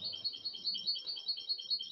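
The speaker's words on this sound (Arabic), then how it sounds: "طائر الحسون وكلامه" A European goldfinch sings a fast, continuous run of high twittering chirps and trills, steady and fairly close, with no voices over it.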